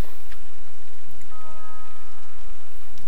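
Steady, loud rain in the video game Superbrothers: Swords and Sworcery EP: a dense, continuous hiss of falling drops, even throughout, with a faint thin tone in the middle and no talk.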